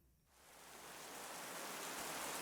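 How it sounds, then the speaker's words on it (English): Heavy rain pounding down, rising from near quiet into a dense, steady broadband roar that holds loud and unbroken to the end. "Another day of pounding rain."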